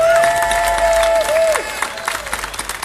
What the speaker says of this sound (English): One more round of applause for all of you for coming out today.